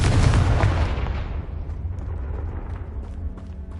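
In Hogwarts Legacy, a Confringo blasting spell detonates in a loud, heavy burst at the start, followed by a rumbling tail that fades over a few seconds with faint scattered crackles.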